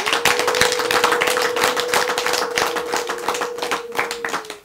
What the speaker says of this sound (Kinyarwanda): dukomera Imana amashyi menshi n'impundu